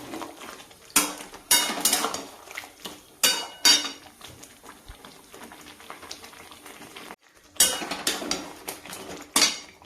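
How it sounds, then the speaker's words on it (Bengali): Marinated chicken and fried potato being stirred in a pan for a home-style chicken dish, with repeated loud metallic scrapes and clanks of a spoon against the pan in bursts, between quieter stretches of soft sizzling. "এবার ভালো করে এটাকে কষবো"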